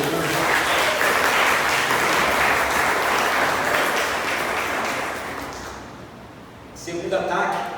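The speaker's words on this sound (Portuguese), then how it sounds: "Você pode aplaudir o Senhor por isso que eu estou falando." A church congregation applauds the Lord during a sermon with loud, steady applause that holds for about five seconds, fades out, then gives way to a short burst of noise at the end.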